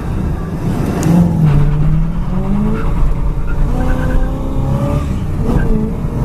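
A 1975 Pontiac Firebird Formula accelerates hard and chirps its tires in second gear, giving a rising engine drone with a brief squeal early on, then a climbing rev, heard from inside the car.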